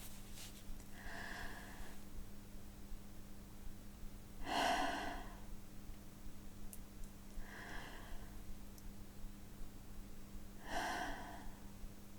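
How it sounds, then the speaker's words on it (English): A vocal breathing exercise: a few soft breaths, inhaled and then exhaled, spaced several seconds apart over a steady low hum, faint and close, with no speech. "We're going to inhale, hold it for 2 seconds, and exhale."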